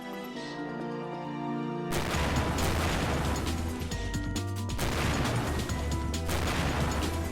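Bomb glove explosions in the Ratchet and Clank video game, two loud booming blasts about two seconds apart with a dense rumbling tail, set over steady game music and effects.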